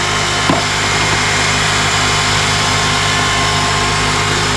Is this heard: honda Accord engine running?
yes